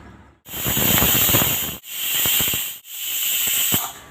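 A pressure cooker cooking tomato rice hisses its whistle loudly in three long bursts of steam, each cut by a brief pause, with no voices.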